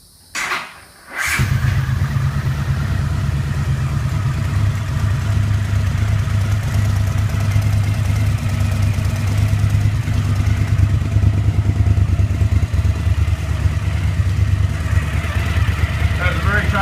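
A Honda CX-series cafe racer street fighter motorcycle engine cranks and fires after a second of quiet, then settles into a close, loud, steady idle with a clattery mechanical rhythm.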